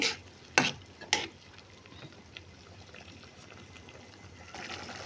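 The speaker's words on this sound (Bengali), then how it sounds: "নাড়াচাড়া করে বেজে নিচ্ছি" Spices fry in a pan as they are stirred, with two sharp scraping clatters early on, then a faint, steady sizzle and light stirring sounds close by.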